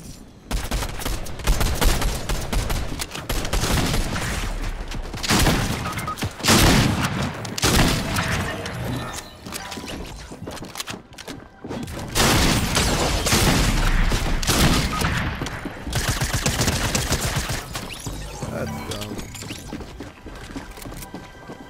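Fortnite gunfire, a dense, loud, nearly continuous fusillade of rapid automatic shots with brief gaps, close and dominant, without talk.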